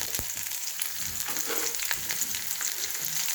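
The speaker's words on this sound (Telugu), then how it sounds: "ఆవాలు, జీలకర్ర, పప్పు, శనగపప్పు, పెసరపప్పు వేస్తున్నాను." Mustard seeds, cumin, and split lentils sizzling and crackling in hot oil for coconut rice, a close, continuous frying hiss dotted with small pops and sputters.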